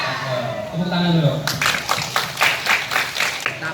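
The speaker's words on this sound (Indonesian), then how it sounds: "Tepuk tangan dulu." Kindergarten children at a fire department school visit clap their hands together in a burst of rhythmic claps after an adult's voice, near and fairly loud.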